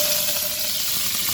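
Mustard seeds, fenugreek and curry leaves fry in hot oil with a steady, loud close-up sizzle and soft crackle throughout, with no talking.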